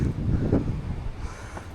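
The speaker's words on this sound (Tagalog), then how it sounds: "So ngayon ay may bagyo, kaya mahangin." Typhoon wind blows around Camp Bojeador Lighthouse in Burgos near the sea, a gusting low roar and buffeting that swells early then eases, with no talk.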